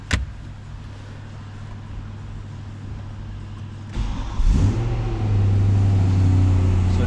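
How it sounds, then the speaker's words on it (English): A BMW E92 M3 with the 4.0 engine and DCT gearbox cranks and fires up partway through, settling into a loud, steady low idle after a quiet cabin stretch. "we'll get the car started and let you hear what it sounds like."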